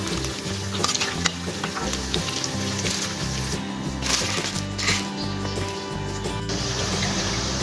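Chicken pieces for butter chicken fry in hot oil in a pan until browned, giving a continuous loud sizzle and crackle close up, with occasional stirring scrapes and no talking.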